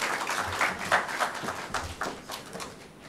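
A small conference audience claps together in a steady patter of applause, moderately loud and even, fading slightly toward the end.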